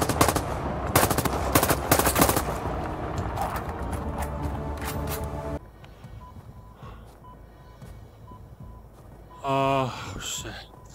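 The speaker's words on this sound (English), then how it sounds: "They are shooting at me." Enemy gunfire in the VR shooter Zero Caliber rattles out in loud, rapid automatic bursts for several seconds, then cuts to a quieter stretch with a brief burst of noise near the end.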